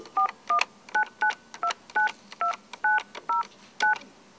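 A telephone number is keyed in as a quick run of about a dozen touch-tone beeps, evenly spaced, each short and clear, close to the listener.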